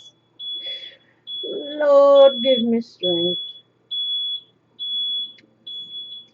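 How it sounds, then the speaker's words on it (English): A passing truck's reversing beeper sounds a high, steady electronic beep at even intervals, with someone speaking briefly under the first few beeps. "Let us wait for this annoying beeping truck to go by."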